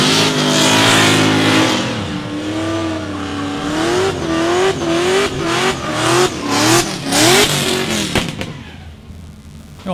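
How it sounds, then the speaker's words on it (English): A drift car with a loud LS V8 revs hard and bounces off the limiter at a drift event at Meremere, New Zealand. The wavering engine note rises and falls in rhythmic pulses, close and very loud throughout, with no talk. "Isaac Aldridge has like the loudest LS that I've heard for a while"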